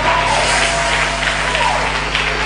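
A church congregation claps steadily through a Tuesday prophetic service, a dense, even wash of applause with a constant low hum underneath and no break.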